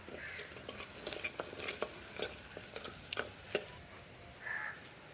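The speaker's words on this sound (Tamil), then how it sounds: "வெங்காயம் ஓரளவுக்கு வதங்கினவொடனே இருபது பல்லு பூண்டு தோல் உரித்து வச்சுருக்கேன் அதையும் இதோடு சேர்த்துக்கலாம்" Onions and garlic cloves frying in oil in a pan, stirred with a spoon: a soft continuous sizzle with repeated scraping strokes and brief clinks, close and moderately quiet, no talking.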